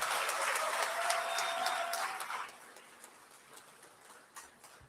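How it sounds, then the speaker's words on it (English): Audience at a university festival awards ceremony applauding, a fairly dense round of clapping that fades after a couple of seconds into a few scattered claps. "Let's all give her another round of applause."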